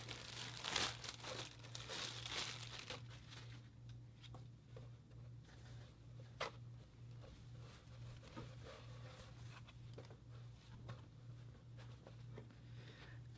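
Plastic and paper packaging crinkles and tears open in a quadcopter subscription box, loud crackling bursts at the start and then scattered smaller rustles over a steady low hum.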